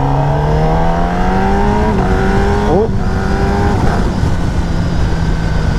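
A 2019 Kawasaki ZX-10R KRT edition sport bike is ridden hard. Its engine whine rises in pitch, breaks sharply at a gear change and climbs again over a constant loud roar of wind.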